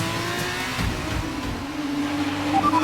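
F1 2019 video game race car engine after a turbo failure: a close, continuous engine drone with a rising pitch and slight wavering, heard alone without talk.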